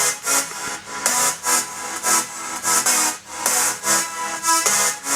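A dense, hissy electronic mix for the drop of a track pumps in a steady rhythm, dipping and swelling on every quarter-note beat as sidechain ducking repeatedly lowers its volume.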